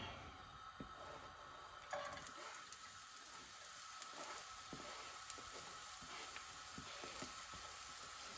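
Chopped onion frying in a pan of butter and olive oil gives a faint, steady sizzle with soft crackles and occasional stirring scrapes, quiet and continuous.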